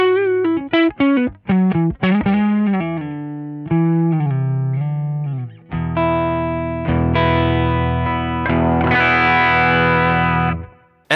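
Electric guitar through a Benson Monarch American amp patch on Line 6 Helix, with a warm, lightly driven tone, plays single-note phrases, then rings out fuller strummed chords, loud and close with no talking.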